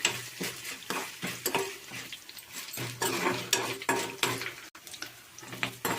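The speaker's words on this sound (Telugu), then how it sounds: "తాలింపు వేగిపోయింది" Dried chillies, curry leaves and spices fry in oil as a tempering for orange tamarind-style rice, with a soft sizzle under repeated metal stirring strokes scraping a pan, close and rhythmic.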